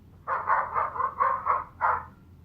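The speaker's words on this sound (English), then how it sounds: "let's start with the dog barking" A run of about seven muffled barks from a dog, coming in quick bursts with a short pause before the last one.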